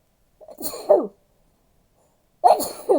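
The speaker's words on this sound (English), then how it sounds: "And I have to sneeze." Two sharp sneezes, close and loud, separated by a second or so of silence.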